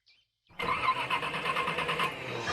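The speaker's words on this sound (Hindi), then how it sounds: "मैडम, लगता है इंजन में कोई दिक्कत है" A car engine struggling to start, cranking in a loud, steady, uneven churn that sets in after a brief near-silence and continues throughout.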